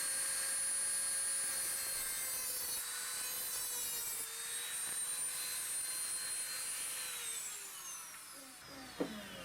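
A Dremel rotary tool cuts through a cast Alumilite Whopper Plopper lure body, giving a close, steady high-pitched whine that dips in pitch as it bites, then stops with a small click.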